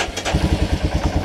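Royal Enfield Himalayan adventure motorcycle engine turning over and running, a loud close rhythmic thumping putter with steady low pulses and no talk.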